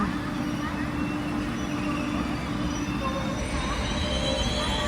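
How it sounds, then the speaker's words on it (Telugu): An intercity express train arrives at Vellore Cantonment station, a steady loud rumble of wheels on rails filling the scene, with voices nearby. "ట్రైన్ వచ్చేసి వేలూరు కంటోన్మెంట్కి అయితే వచ్చేసింది."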